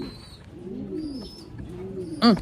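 Pigeons coo softly in repeated low, rolling calls close by, ending with a louder sharper call; faint background noise throughout.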